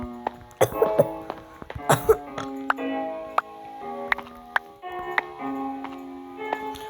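Several short, harsh coughs come in scattered bursts, close by, over a faint rhythmic ticking in a quiet room.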